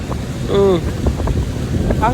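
Wind buffets the microphone in a steady low rumble outdoors in London, England, with voices and a brief tonal sound over it.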